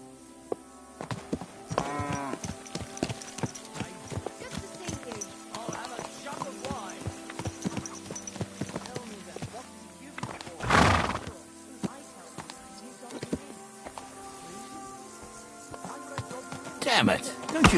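Horse in the medieval role-playing game Kingdom Come Deliverance 2: clip-clopping hooves keep up a steady rhythm throughout, and loud whinnies break through at intervals under game ambience and some talking.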